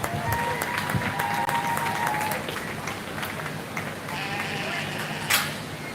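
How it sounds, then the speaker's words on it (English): Audience applause at a 4-H and FFA sheep show at the Lancaster County fair, a steady, moderate wash of clapping from a crowd through the whole stretch, with a sheep bleating and a voice briefly audible. "Let's go ahead and give one more big round of applause."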